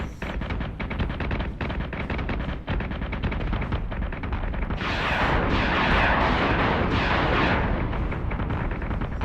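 Heavy ship weapons fire in Battlestar Galactica Deadlock, a loud, rapid run of cannon shots pounding in steady rhythm, swelling into a dense roaring barrage of blasts partway through, with no talk over it.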